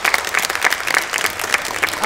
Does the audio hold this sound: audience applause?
yes